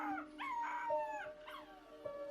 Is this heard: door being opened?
no